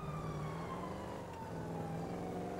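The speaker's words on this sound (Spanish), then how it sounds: "en lo que me persiguen las patrullas" A police car siren wails steadily and loudly throughout a chase in the video game GTA V on PS4, with the tone gliding gradually. No one speaks.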